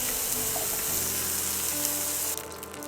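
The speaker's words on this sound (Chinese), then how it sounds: "杏鲍菇容易吸油， 翻炒变色后盛出备用" King oyster mushrooms stir-frying in hot oil in a wok, giving a steady dense sizzle throughout that drops slightly near the end.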